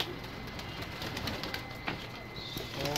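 High flyer pigeons at night, soft low cooing with a few brief wing flutters, close and fairly quiet over a faint background hum.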